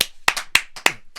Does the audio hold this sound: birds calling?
no